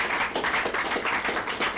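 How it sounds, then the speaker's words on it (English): A group at a youth bootcamp claps for themselves, a dense burst of applause from many hands that carries on steadily for the whole stretch. "Let's clap for ourselves first. Clap for yourself."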